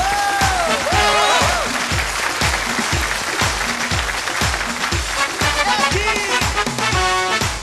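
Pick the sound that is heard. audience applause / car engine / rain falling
audience applause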